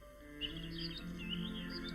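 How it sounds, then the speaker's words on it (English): Song thrush singing in a British garden: repeated musical phrases of high, clear notes, fairly faint and steady over a low background hum, with no talk. "the distinctive repetition of musical phrases will instantly identify this wonderful bird"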